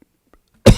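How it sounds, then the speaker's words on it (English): A single sharp cough bursts out after near silence, close and loud, ending abruptly. "I'm sorry for the cough."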